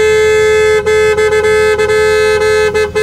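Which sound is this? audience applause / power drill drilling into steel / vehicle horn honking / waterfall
vehicle horn honking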